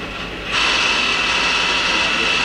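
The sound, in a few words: Hyundai-WIA L400LMC CNC turning center running live tool at 500 RPM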